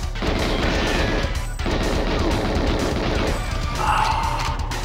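Continuous gunfire in GoldenEye 007 on the Nintendo 64, a dense, loud, rapid stream of shots with brief dips, close and sustained throughout.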